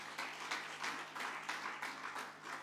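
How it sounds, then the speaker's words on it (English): Conference attendees at a women birders event clap in a quiet, distant patter of rhythmic bursts, faint and steady throughout. "Let's clap for them."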